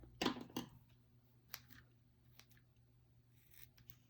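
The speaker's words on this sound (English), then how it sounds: "Those are not my ribbon scissors, and they do not cut well." Several crisp scissor snips cutting ribbon, a quick pair of loud cuts followed by a few fainter snips, close by, with no talking.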